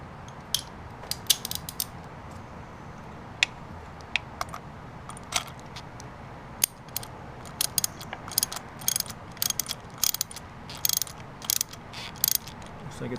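A hand ratchet tightens the spark plug on a 2011 Kawasaki Ninja 250, giving a long close series of small sharp clicks, scattered irregularly at first and then coming faster.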